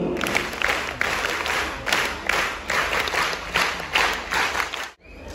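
An audience at an inauguration ceremony claps in rhythmic rounds, steady bursts of applause swelling and dipping several times before stopping abruptly near the end.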